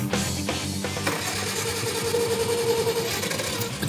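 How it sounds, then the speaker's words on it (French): A Farmall Cub tractor's inline four-cylinder engine cranks in short bursts, then catches and settles into a steady, fairly loud running note, with no talk over it. "le démarrage du 4 cylindres en ligne"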